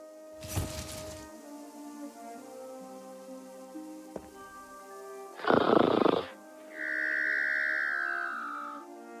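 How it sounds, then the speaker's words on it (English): Cartoonish snoring from a character in the adventure game The Book of Unwritten Tales 2, a few distinct loud bursts of breathy noise separated by pauses, followed by a sustained whistling tone, with no talking. "that's the sound of Cheep Cheep snoring"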